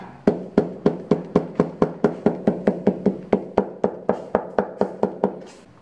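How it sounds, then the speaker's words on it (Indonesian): Hand-made sandal upper being tapped down during sandal making, a long run of about twenty sharp, evenly spaced knocks at close range, each short and crisp, fading slightly at the end. "Kita ketok lagi ya."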